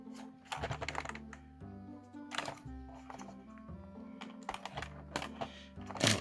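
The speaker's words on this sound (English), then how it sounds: "They click back down." Plastic wheels on a Playmobil Back to the Future DeLorean toy click into place, producing a scatter of small, sharp taps and snaps over soft background music.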